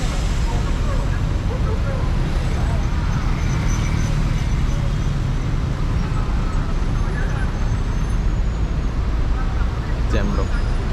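Traffic sits jammed on a Kuala Lumpur, Malaysia road in the late afternoon, a loud, constant low rumble of idling cars, buses and engines filling the whole stretch.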